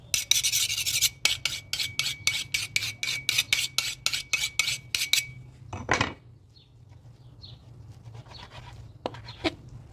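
A knife cuts through sheep meat with a rapid series of rasping, scraping strokes, followed by a few sparser knocks and scrapes in a quiet room.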